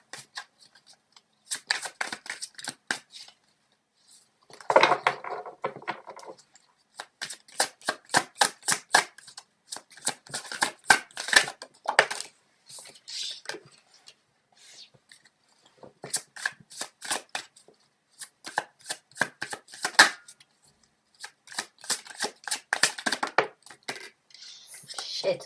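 Tarot cards being shuffled by hand close up, in repeated bursts of crisp riffling and flicking separated by short pauses, with no talking.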